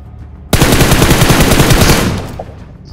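Rapid automatic gunfire from the BGMI mobile battle royale game, a loud, close burst of about a dozen quick shots lasting around a second and a half, then a fading tail.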